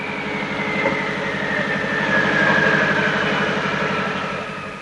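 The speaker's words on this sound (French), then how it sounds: "Écoutez la voiture au ralenti" A rally car's 1.4-litre turbocharged engine of more than 300 horsepower idles steadily, giving a continuous low, lumpy rumble with a faint whine above it. The sound is close and holds at an even level, with no talk over it.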